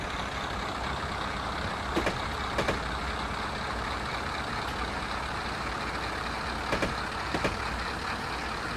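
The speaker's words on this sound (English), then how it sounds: "Apply a little brake just in case." Train brakes are applied in Train Simulator 2016 on a Forest Rail mainline run: a steady engine and rail rumble broken by two pairs of short, sharp air-brake hisses, with no one speaking.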